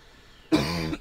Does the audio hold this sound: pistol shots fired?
no